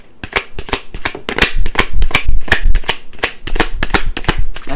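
Tarot cards are shuffled in a quick series of crisp riffling bursts, loud and close, with about fifteen rhythmic flicks.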